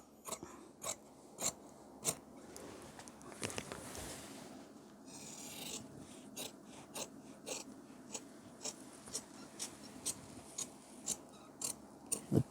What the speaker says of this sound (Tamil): இங்கே இந்த மார்க்கில் கரெக்டாக அப்படியே வெட்டிடலாம்.